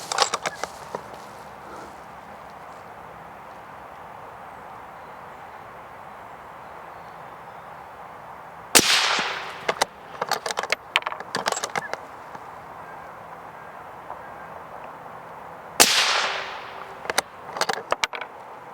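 A rifle fires Hornady ELD-VT 62gr .224 bullets during a ladder test: two sharp, loud shots several seconds apart, each followed by a brief rattling echo and handling clatter, with quiet ambience between.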